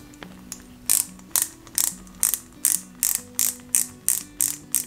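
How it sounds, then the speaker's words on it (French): A small screw is driven into a plastic part of an Ecto-1 Ghostbusters model car, giving a steady series of about a dozen sharp, close ratcheting clicks from the screwdriver, evenly spaced with no talking. "on retourne notre pièce et on vient y fixer la base avec une vis DP"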